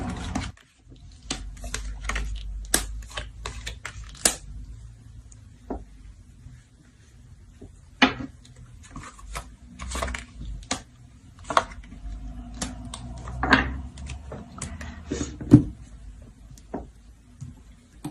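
Tarot cards shuffled by hand, a run of soft papery riffles and crisp slaps repeating irregularly over a low room hum, fairly close and quiet, with no talking.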